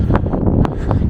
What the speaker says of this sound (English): It's absolutely so windy